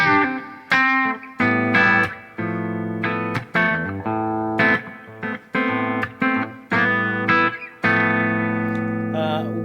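Bright, clean electric guitar chords from a steel bridge pickup strummed in repeated bursts, with a twangy edge and a touch of reverb, played alone.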